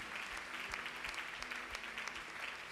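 A church congregation applauds and acclaims Jesus with sustained, fairly soft clapping that carries steadily throughout, along with a few background voices.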